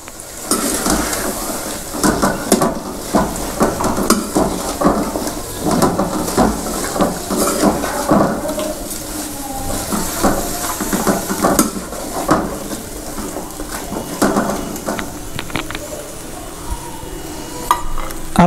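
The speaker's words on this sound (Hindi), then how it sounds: "ये हम इसमें अब ऐड करेंगे। और इसको भी हम भूनेंगे।" Potatoes, carrots and peas frying in a pot while being stirred, with steady sizzling, repeated scraping and clinks of a spoon against the metal throughout, and no talking.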